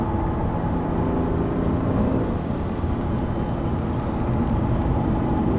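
A Lamborghini Murciélago accelerates out of a corner on a track, its engine a loud, continuous roaring drone that stays close and steady the whole time.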